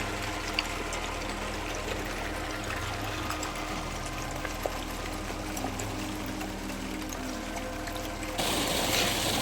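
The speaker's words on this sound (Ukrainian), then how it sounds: "Теж б'є вода, теж гарно, дуже-дуже прозора." Clear spring water rushing through a narrow crack into a small transparent pool, a steady close gushing and trickling that stays unbroken throughout and swells slightly louder near the end.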